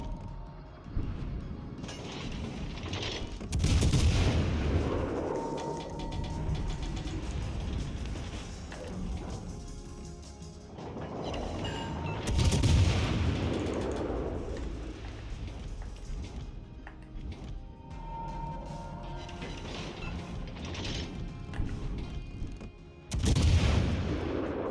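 Gunfire and booming artillery from a video game's Halloween event come in scattered bursts, with heavy blasts rising out of a busy battle din at moderate loudness.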